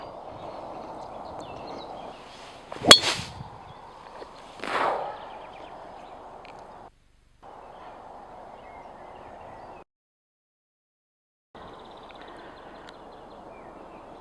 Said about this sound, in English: Let's see what this ball will do and how it will behave.